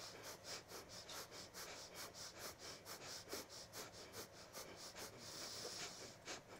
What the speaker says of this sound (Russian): начинаем дыхание, как вот собачка, когда хочет она пить, вот так вот